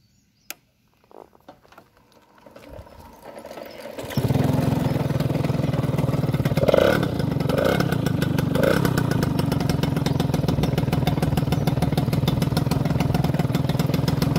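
A custom Peugeot MVL moped is started by hand. Faint clicks and sputters come first, then the engine catches and settles into a loud, steady idle that runs on, with a slight rev partway through.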